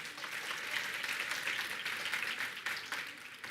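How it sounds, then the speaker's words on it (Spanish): An audience at a talk applauds steadily throughout, with even, continuous clapping at a moderate distance and fairly faint level. "Un aplauso para ella."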